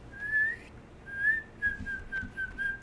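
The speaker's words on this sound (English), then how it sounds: "I really can't whistle worth a crap." Someone whistles a wavering, breathy tune in several short phrases, faint and close, with low room noise underneath.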